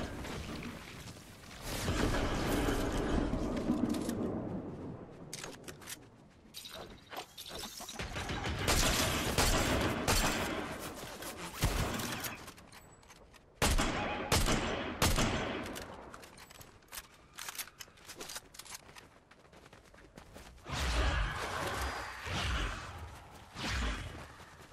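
Bursts of gunfire in a Fortnite Chapter 5 battle royale match, loud rapid volleys and single shots repeating in clusters with brief pauses between, close and sharp throughout.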